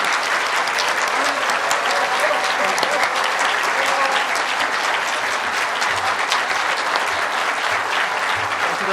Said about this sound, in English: make a big hand of applause for Matt Morris